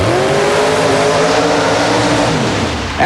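A methanol-burning, fuel-injected small block Ford with nitrous oxide injection powers a super modified mud racer on a run at a Long Island track. The engine roars close and loud, steady at full throttle, then eases slightly at the end.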